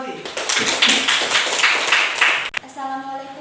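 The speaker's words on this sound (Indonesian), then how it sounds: "Tepuk tangan untuk Wanti." A small group claps at a school practice session, a brisk burst of applause lasting a few seconds before it stops and a voice begins speaking.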